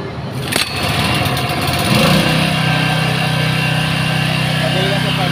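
An Ingco 1300W/1500W portable generator engine is pulled and catches early, then runs loud and steady at an even, buzzing idle for the rest of the stretch.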